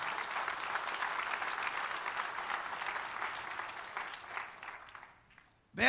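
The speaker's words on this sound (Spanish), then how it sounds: "Denle un aplauso al Señor." A church congregation claps in sustained, even applause that gradually fades out, followed by a sudden short loud burst right at the end.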